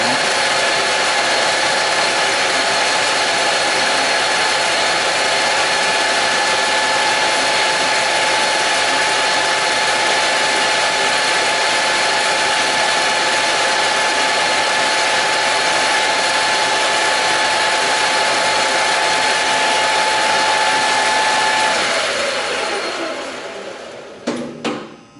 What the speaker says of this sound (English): Got a piece of 1/4 round stock aluminum 6061, and I'm just machining it real quick